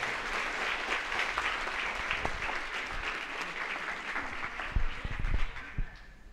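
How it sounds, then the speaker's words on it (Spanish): An audience at a pro-life congress gives a loud round of applause, sustained dense clapping with a few sharper louder claps near the end before it tapers off. "Un fuerte aplauso, por favor."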